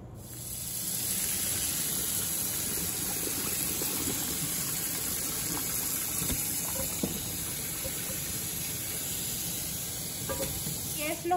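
Cooked cauliflower water pours from a pot into a colander, a steady rushing hiss and splash of draining liquid that runs continuously and close by for about eleven seconds.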